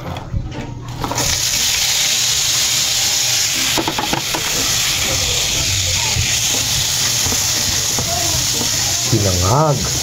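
Leftover crab fried rice is stirred in a pan still greasy from frying lumpia, a loud, close, continuous sizzle with scraping strokes, a faint voice briefly audible near the end.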